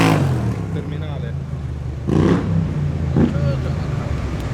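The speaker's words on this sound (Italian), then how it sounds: "Questi qua sono i motori del BMW" BMW C600 scooter engine revving close by, a throaty rumble with two sharp bursts of throttle over a steady idle, with voices in the background.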